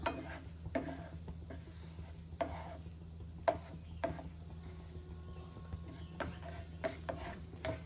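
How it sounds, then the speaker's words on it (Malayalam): Cumin seeds crackle in melted butter in a pan, giving quiet scattered pops and taps over a low background hum, with occasional stirring clinks. "ജീരകം പൊട്ടാൻ സമയം എടുക്കുന്നുണ്ട്, കാരണം ആ വെണ്ണയിൽ കിടക്കുന്നുണ്ട്"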